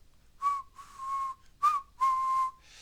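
Someone whistles an imitation of a deep-toned train whistle: four toots in an uneven rhythm, two short and two longer, clear against near silence.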